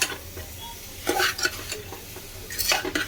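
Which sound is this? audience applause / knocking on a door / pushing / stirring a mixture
stirring a mixture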